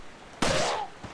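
A single sharp gunshot in Resident Evil 4, sudden and loud with a short ringing decay, alone against quiet background.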